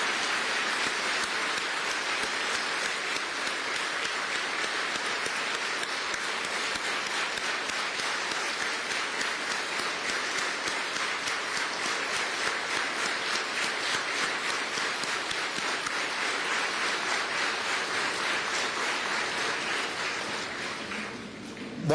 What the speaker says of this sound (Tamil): அனைவரும் எழுந்து நின்று பலந்த கரகோஷத்துடன் ஸ்டாண்டிங் ஓவேஷன்